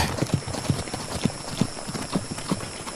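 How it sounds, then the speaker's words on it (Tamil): Two horses gallop along a seashore, their hoofbeats ringing out in a clear, rhythmic clip-clop series of close, distinct thuds. "அடுத்த கணம் கடற்கரை ஓரமாக 2 குதிரைகள் முன்னேறி ஓடி வர"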